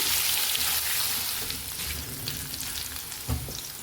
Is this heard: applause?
no